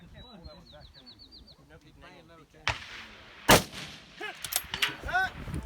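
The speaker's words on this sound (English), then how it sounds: "My first 2 rounds go off, impact, no problem." Rifle shots fired from a barrel position at targets: two sharp, loud cracks about a second apart, each followed by a brief distant ring and faint impact sounds, with quieter outdoor ambience and bird-like chirps before them.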